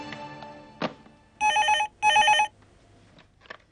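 A telephone rings with two loud electronic trill bursts, each about half a second, close and clear against a quiet room with a few faint handling sounds.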